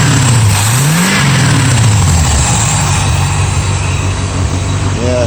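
Engine of a 1969 VW Vette revving, a loud continuous roar that swells and dips in pitch as the throttle is blipped, close up and steady throughout with no voices.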